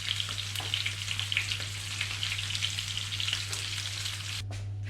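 Pork ribs seasoned with salt and black pepper browning in a pan for an Italian rib dish, giving a steady close sizzle and crackle throughout, with a low constant hum underneath and a brief dropout near the end.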